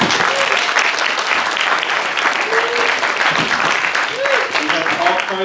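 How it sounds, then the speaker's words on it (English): A room full of people claps in sustained, dense applause for a departing professor, with a few voices calling out over the steady clatter throughout. "give her another round of applause"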